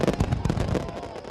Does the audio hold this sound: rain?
no